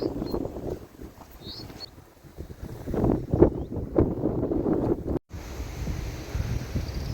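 Strong wind buffets the microphone in an exposed outdoor spot with no shelter, a steady broadband roar rising and falling in gusts, close and loud throughout with no voices.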